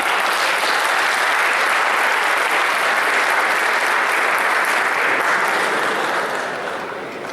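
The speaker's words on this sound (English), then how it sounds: "Could we please have a huge round of applause for Mr. Bihar?" Sustained audience applause at an alumni homecoming distinguished alumni awards ceremony, a dense, steady wash of many hands clapping that carries on loudly throughout and tapers slightly at the end.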